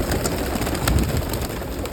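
Pigeons of several kinds cooing in a home loft in the morning, a steady low murmur of soft calls close by, with no talk over it.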